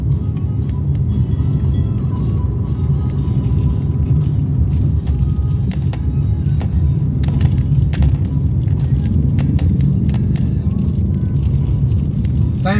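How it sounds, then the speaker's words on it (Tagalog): Heavy road traffic on a congested service road near Calamba, with a steady low rumble of car engines and passing vehicles close by, plus a few faint clinks over it. "Grabe yung traffic."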